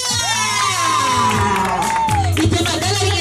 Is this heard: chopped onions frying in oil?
no